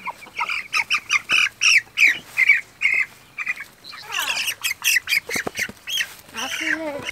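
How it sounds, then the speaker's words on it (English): Chickens squawk loudly and repeatedly as they are grabbed, harsh close-up cries in rapid bursts and flurries, with people talking now and then. "Grab these chickens right here."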